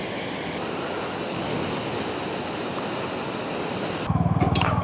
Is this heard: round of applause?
no